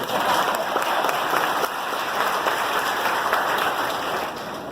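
Church congregation applauding during a sermon, a dense, steady wash of clapping that holds at an even level for several seconds before easing slightly at the end.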